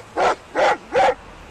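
A dog gives three loud, close barks in a quick, even rhythm, each short and sharp, with silence in between.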